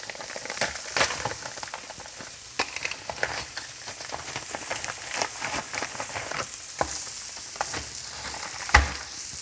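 Hatch chili salsa verde warms in a pan with a continuous crackling sizzle and scattered pops, ending in a sharp clunk near the finish.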